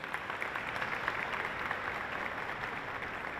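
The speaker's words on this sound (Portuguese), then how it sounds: "Uma salva de palmas para eles também." Applause for honorees at a solemn diploma session in a legislative chamber, a steady distant wash of many hands clapping, even and moderately faint with no talk.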